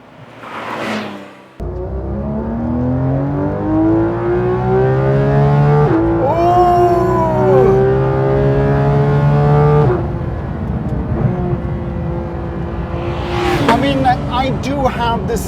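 A Porsche 911 GT3 RS of the 991.2 generation revs loud and close, its engine note rising and falling through several sweeps with a sharp blip near the end, filling the whole stretch after a brief quieter start.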